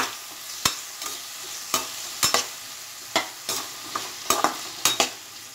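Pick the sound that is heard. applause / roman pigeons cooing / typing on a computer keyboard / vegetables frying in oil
vegetables frying in oil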